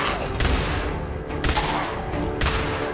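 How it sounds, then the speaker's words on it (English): Laser and plasma shotguns fitted with splitters fire three sharp, loud blasts about a second apart in a video game, each shot a bright crack with a short ringing tail. "The laser and plasma weapons can be modified to act like shotguns with the addition of a splitter."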